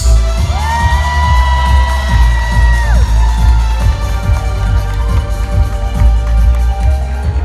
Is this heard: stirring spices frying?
no